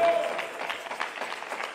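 A church congregation claps together in praise, a dense, steady patter of many hands that stays loud and even from start to finish without much rise or fall.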